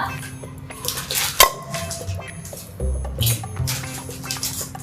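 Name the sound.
scrubbing pots and utensils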